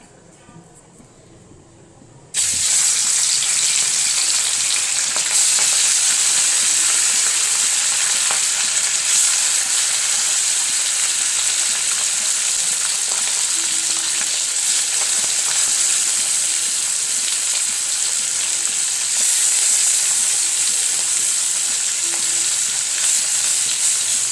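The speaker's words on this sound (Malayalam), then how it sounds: "അവിടെ എണ്ണ ചൂടായി വന്നിട്ടുണ്ട്. മീനിട്ട് കൊടുക്കാവേ." Fish sizzles loudly and steadily in hot oil for a Kerala-style fish biryani, starting abruptly after a quiet moment and holding a dense, continuous crackle close to the pan.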